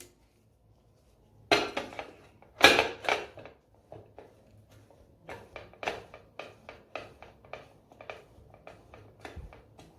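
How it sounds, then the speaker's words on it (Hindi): Paneer rubbed over a coarse grater, giving a run of short scraping strokes in a loose rhythm, two louder scrapes near the start, then steadier lighter passes, close and alone with no talk. "तो मैं यहाँ पर पनीर को कद्दूकस कर लूंगी।"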